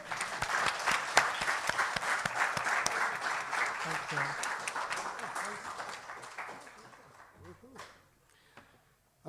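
Audience applause fills a university conference session, a dense steady clapping that holds strong for several seconds, then thins and fades toward the end while a voice briefly speaks over it.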